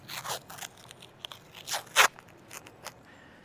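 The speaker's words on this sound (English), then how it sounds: "I'm just gonna use some of this packaging tape." Packaging tape is pulled off the roll and torn while an easy PVC Christmas tree is assembled, making crackly, sticky ripping bursts with one sharp loud tear in the middle, close by and with no voices.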